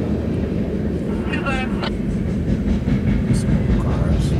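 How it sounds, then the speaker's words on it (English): A coke train rolls past on the railway, with a steady heavy low rumble of cars and faint squeals over it, while someone speaks nearby. "That's a Coke train."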